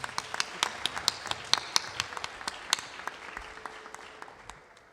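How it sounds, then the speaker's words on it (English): Guests at an engagement ceremony clap for a singer with sharp, distinct claps from a smallish group that thin out and fade over a few seconds. "Please give him another round of applause."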